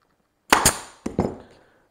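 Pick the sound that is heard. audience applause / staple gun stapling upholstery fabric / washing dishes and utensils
staple gun stapling upholstery fabric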